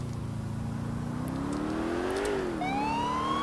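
A police car siren in the video game GTA IV wails as it starts up, a rising and falling tone over a car engine, loud and close with no voices.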